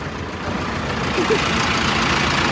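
A Mahindra Arjun 755 tractor with a 75 HP CRDI engine runs with a steady, close, loud mechanical rumble, with faint voices in the background.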